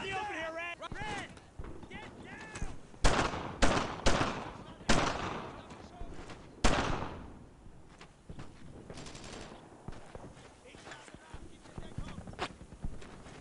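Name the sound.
gunfire in a war video game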